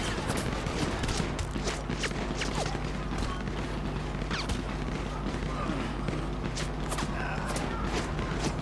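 A gang firing guns at the player in GTA 5, a dense, continuous stream of sharp gunshot cracks and clattering impacts over a busy, loud game soundscape, with a voice talking.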